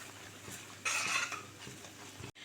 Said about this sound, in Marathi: तर त्याच्यामध्ये आपण थोडेसे मटर जे घेतले होते ते ॲड करून घेणार आहोत.